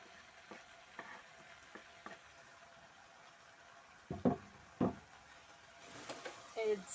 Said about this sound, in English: And stir our mixture again.